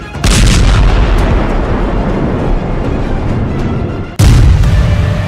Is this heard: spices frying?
no